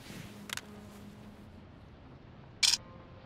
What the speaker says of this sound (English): Let us get a selfie with the florist and send it to Enzo